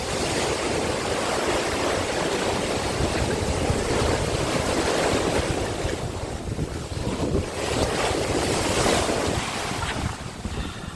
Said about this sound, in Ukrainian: такі хвилі треш.